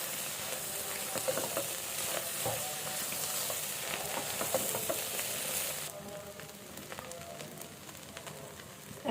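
Flour frying in oil in a pan while being stirred, giving a steady close sizzle with scraping and stirring ticks throughout, the hiss easing somewhat toward the end.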